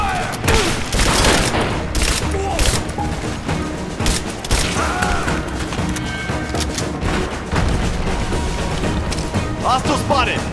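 Rapid bursts of automatic gunfire and heavy impacts fill a firefight in the Rise of the Tomb Raider video game, loud and near, with soldiers shouting in game dialogue over the shots.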